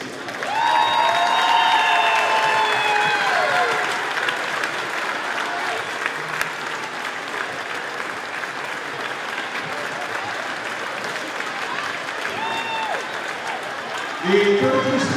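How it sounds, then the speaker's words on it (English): Loud, sustained applause from a large crowd at a volleyball game fills the space, with a few cheers and whistles rising above the clapping. "Please join me in a gigantic round of applause for these young ladies."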